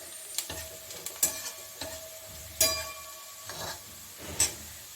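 Nigella seeds crackle and sizzle as they hit hot oil in a pan, the start of a tangra fish curry. Several sharp bursts of spitting sizzle come close and loud, with a faint steady fry between them.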